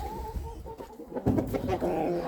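Several chickens cluck and murmur nearby, short overlapping calls with a few scuffling sounds, no talking.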